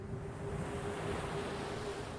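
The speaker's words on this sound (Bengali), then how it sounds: "সমুদ্রের দিক থেকে শুধু বাতাসের শব্দ আসছে।" Wind blows in from the sea at New Digha on a rainy night, a soft, steady broadband rush with a faint continuous tone, with no voices present.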